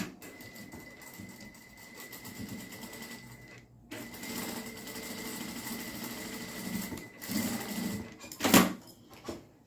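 A sewing machine stitches ribbon for a fabric Easter favor, running in steady whirring stretches with a brief pause and a sharper mechanical clack near the end, close and alone without talk.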